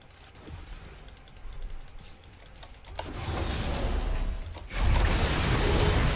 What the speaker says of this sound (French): Moi, j'ai un peu spamé mon clavier, je sais pas si vous l'avez entendu.